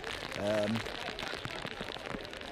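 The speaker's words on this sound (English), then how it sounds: "no sooner, as I said, it wasn't as heavy rain as yesterday afternoon. Guess what? A deluge." A heavy rain downpour at an outdoor football match, with a steady close hiss of rain falling around a spot under a tree and a brief muffled voice or tonal sound early on.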